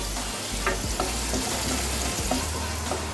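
Ginger, green chillies and garlic sautéing in olive oil in a pan, a close, steady frying sizzle with a few stirring clinks over a low rumble and no talking.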